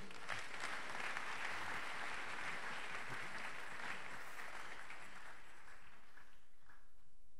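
A church congregation applauds at a service in French, a dense, steady wash of many hands clapping that fills the whole stretch and tapers slightly near the end.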